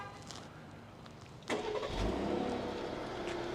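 A Jeep Grand Cherokee Summit's engine starts by remote start: quiet ambience, then a sudden crank and catch into a steady, close idle.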